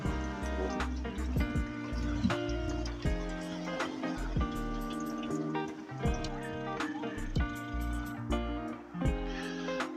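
Coolant draining under residual pressure from an Opel Corsa 1.4i engine, steadily trickling and dripping, with rapid irregular splashy drops under a dense, continuous background.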